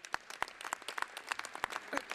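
Scattered applause in the Italian parliament, a handful of separate claps ringing out sharply over a low room murmur, loose and uneven rather than a full ovation.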